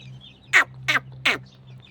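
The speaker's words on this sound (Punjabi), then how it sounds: "ਇੱਧਰ ਦੇਖੋ ਇਹ ਆ ਬਿੰਗਮ ਮੁਰਗਾ ਤੇ ਉਹ ਬਿੰਗਮ ਮੁਰਗੀ ਆ" Three short, harsh squawks from a chicken in quick succession, close and clear over a low steady hum.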